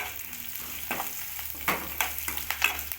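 Vegetables, apparently okra for a buttermilk curry, sauté in a hot pan with steady crackling sizzle, punctuated by several sharper scraping stirs of a spatula near the end.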